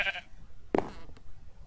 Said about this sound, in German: Schaf, geh doch mal weg